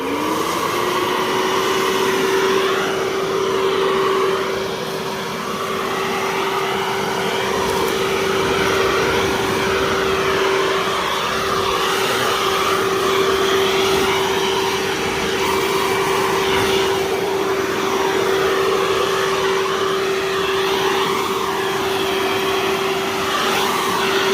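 A Makita 18V X2 Gen 2 blower vac/mulcher runs on high, giving a loud, continuous whine with a rushing airflow roar that stays steady and close throughout, with no talking.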